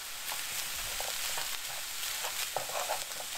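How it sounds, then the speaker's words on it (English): Keema mince with seasoning and spices sizzles steadily in a pan under a constant hiss of frying, with a spoon stirring and scraping through it at irregular intervals. The sizzle is loud and close, and no one speaks. "Now, get all your seasoning and spices in. Get it all in. And give it a mix."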